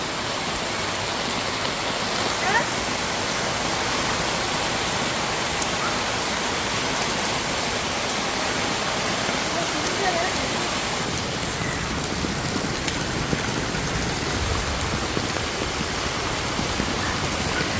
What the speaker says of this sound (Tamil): அப்பா இன்னைக்கு பயங்கர இடியோட மழைங்க.